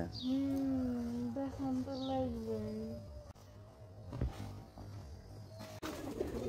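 Pigeons coo in low, steady warbles close by, fading out partway through as other faint background sounds take over.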